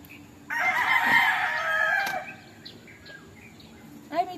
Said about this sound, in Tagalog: pakita natin ang natlaok na manok.